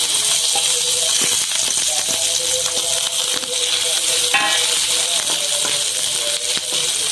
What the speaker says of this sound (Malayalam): ഇതിന് രണ്ട് ടീസ്പൂൺ നെയ്യ് നമ്മൾ ഒഴിച്ച് അത് ചൂടായിട്ടുണ്ട് ഇതിലേക്ക് നമുക്ക് തേങ്ങാക്കൊത്തിട്ട് കൊടുക്കാം